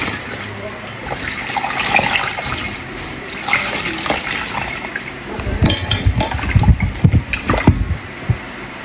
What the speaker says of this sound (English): Add water to them.